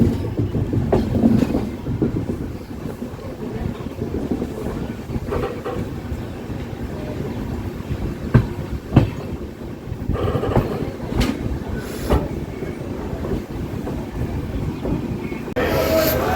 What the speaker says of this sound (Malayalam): തിരുച്ചിറപ്പള്ളി ജംഗ്ഷൻ റെയിൽവേ സ്റ്റേഷനിലേക്ക് ഇതാ ട്രെയിൻ എത്തിക്കൊണ്ടിരിക്കുകയാണ്